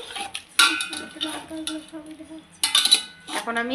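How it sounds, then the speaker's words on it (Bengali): A spoon scrapes and clanks against a metal pot as masala paste and chicken are stirred together for biryani. The knocks come in irregular bursts, close up, with someone briefly speaking over them. "ভালো করে নেড়ে চেড়ে নিচ্ছি"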